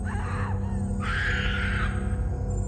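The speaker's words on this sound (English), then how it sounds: "a deafening scream rang out from somewhere behind us" A woman's scream sound effect from a horror story rises and holds for about a second. It is mid-level and slightly distant over a steady, droning low background bed, with no talking.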